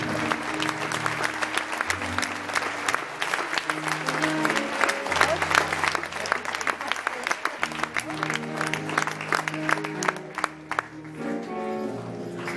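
An audience applauds at a Christmas show with loud, sustained clapping and crowd noise throughout, layered over voices and steady musical tones that ease off near the end.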